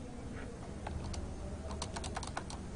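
A command is typed on a computer keyboard in short bursts of crisp, close key clicks: a few scattered taps, then a quicker run of strokes over faint room hiss.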